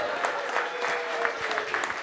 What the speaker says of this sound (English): Let's have a big round of applause for our MCs for Kanthari